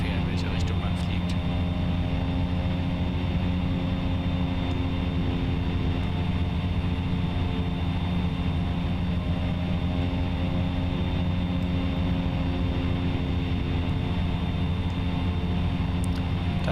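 A Cessna 208B propeller plane in the X-Plane 10 flight simulator drones with a steady, loud, unbroken engine hum and propeller roar throughout, with no change in pitch or level.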